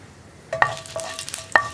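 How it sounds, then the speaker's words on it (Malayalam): Mustard seeds crackle in hot oil, giving a few sharp pops over a soft sizzle, close by and fairly loud. "ഇപ്പോൾ നമ്മുടെ കടുക് പൊട്ടി കഴിയാറായിട്ടുണ്ട്."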